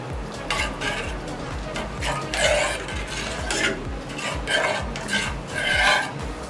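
Cumin powder, spices and ginger garlic paste are mixed in a bowl for a chicken sandwich filling; a steady rhythm of spoon scrapes and clinks repeats roughly every half second, close and continuous, with no voices.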